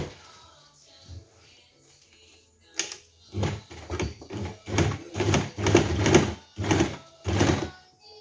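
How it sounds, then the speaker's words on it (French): A sewing machine stitches a blouse sleeve in wax-print fabric, running in a series of short, rhythmic bursts after a few quiet handling sounds. "je vais venir piquer ma manche"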